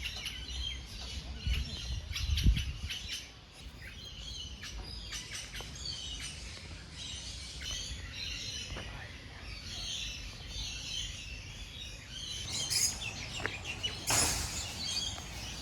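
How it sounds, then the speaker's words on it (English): Several kinds of birds chirp and call in bushland in the Blue Mountains, scattered light tweets near and far, with faint insect buzz and rustling during a hike. "Quite a few different birds here."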